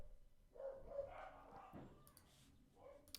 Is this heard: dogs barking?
yes